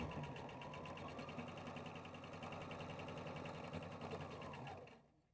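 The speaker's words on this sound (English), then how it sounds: "we're going to step to our machine and sew all of our rows together" A sewing machine stitches the pieced rows of a tote bag together, a quiet, close, continuous motor hum with rapid needle chatter that winds down and stops at the end.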